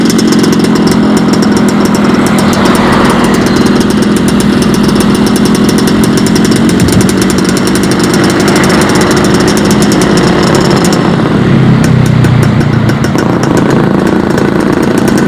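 A motorcycle engine with a modified, raspy exhaust runs loud and close for the whole stretch, idling and revving steadily as the carburetor is tuned.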